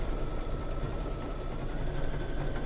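An embroidery machine stitches a background quilt block, giving a steady, even mechanical whir and rapid needle chatter that stays close and constant with no talking.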